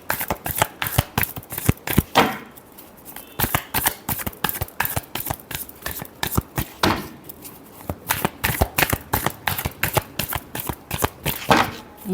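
Tarot cards are shuffled by hand in a quick, continuous flurry of crisp riffling slaps, close and clear with brief pauses between bursts.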